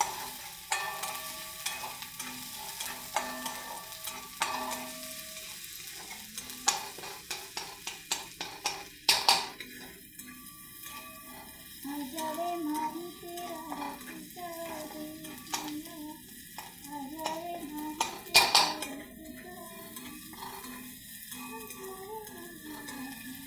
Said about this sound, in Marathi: कांदा टॅमॅटो लाल करून घ्यायचा, कच्चापणा जाऊन द्यायचा याचा.